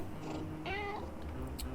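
A single short cat meow from the video game Little Kitty, Big City, clear and fairly close over a soft, steady background, with a faint higher chirp shortly after.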